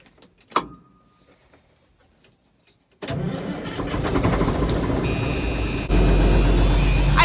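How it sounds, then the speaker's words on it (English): A truck engine cranks and catches after a quiet stretch with a single knock, then settles into a loud, steady idle with a rising whine on top, close by and alone without talk. "I'm gonna go ahead and start the truck so that it is warming up"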